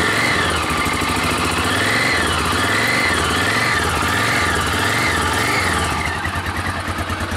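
Carbureted Yamaha XTZ 660 single-cylinder motorcycle engine idling as it warms up, a close, steady loping putter with a slow rhythmic waver in its pitch and no talk over it.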